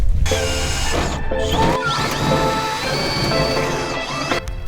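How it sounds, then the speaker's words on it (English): Power drill boring holes through the steel hood of a 1997 Jeep for vent installation, a continuous loud grinding whine with clanking and shifting pitch over nearly five seconds. "I'm just gonna drill these holes real quick"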